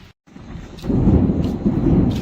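Thunder rumbles during a light drizzle with lightning, a low rolling roar that swells loudly after a short dropout and holds steady, with faint rain hiss and no talk.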